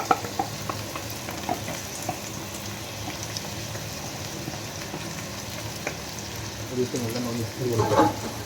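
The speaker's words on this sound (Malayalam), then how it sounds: "നമ്മളിപ്പോൾ അരി ഫ്രൈ ചെയ്ത് വെച്ചിട്ടുണ്ട്" Rice stirred and frying in a hot pot while making Angolan biryani, a steady soft sizzle with scraping stir strokes throughout, close and moderate, growing busier near the end.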